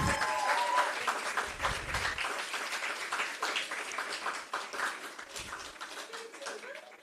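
Conference audience at an international academic gathering applauding, a broad patter of many hands that starts strong and slowly thins out, with faint voices underneath.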